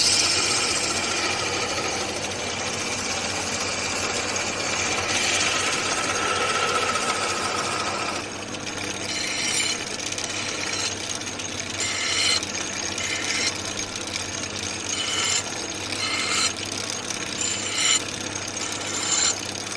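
A power drill bores a hole in a metal pannier bracket, giving a sustained mechanical whine that shifts in pitch and loudness, with intermittent bursts as the bit bites into the metal.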